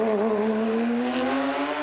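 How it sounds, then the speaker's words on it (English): A Porsche GT3 Cup race car on a street circuit in Toronto in 2016 accelerates out of turn 3, its engine note climbing steadily in a loud, close, continuous howl with no talk. "Love that sound as he jumps back up on the power in the Porsche GT3 Cup car"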